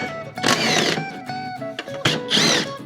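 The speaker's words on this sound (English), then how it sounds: "So I'm gonna take these bolts off here" A power tool whirs in short bursts while bolts come off the torque converter cover of a go-kart, with loud, close spin-ups separated by brief pauses.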